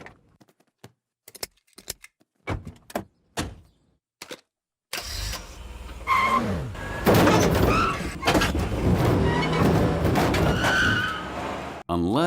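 A car skids in a Family Guy cartoon scene: first scattered thumps and clunks with silent gaps, then a sustained loud tire screech and engine roar layered with crashes and bangs, voices mixed in.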